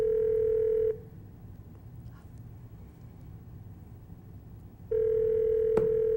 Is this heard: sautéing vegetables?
no